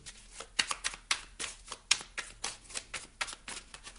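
A deck of slippery playing cards is shuffled by hand in rapid, irregular riffles and flicks, close and fairly soft, with no voices.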